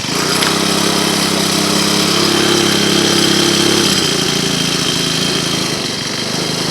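A Troy-Bilt TB575 EC string trimmer's small two-stroke engine runs close and loud, holding a steady buzzing drone that eases slightly toward the end.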